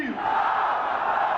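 A large crowd at a political rally chants the slogan Naara-e-Takbeer in response, one loud sustained collective shout with no other voices.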